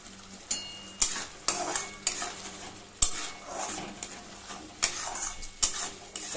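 Mustard paste is stirred in a pan over a high gas flame, with a steady sizzle under repeated scraping and clinking strokes of a spoon against the metal, a few sharper knocks marking the rhythm. No one speaks.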